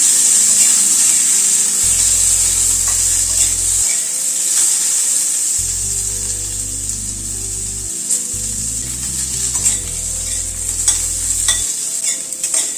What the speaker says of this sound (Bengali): আলুটাকে একটু ভেজে নেব আগে।